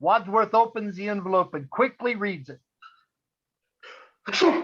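A person sneezes once, loudly and close, during a Clue murder-mystery game played over Zoom; a voice talks steadily just before, then a short pause comes before the sharp sneeze.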